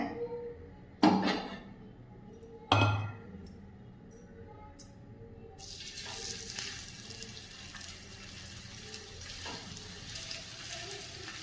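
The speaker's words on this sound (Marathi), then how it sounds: "तव्यावर तेल टाकून आपण हे शालो फ्राय करून घेऊया" Two sharp clatters, then a steady crackling sizzle of vadas shallow frying in oil on a hot griddle, fairly close and continuous.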